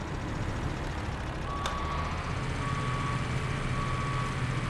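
A MAN truck drives in Farming Simulator 2017, a steady low engine rumble running throughout with faint intermittent beeping tones overhead, no talk.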